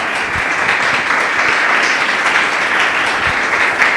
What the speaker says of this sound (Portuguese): Louve ao seu Deus com suas palmas,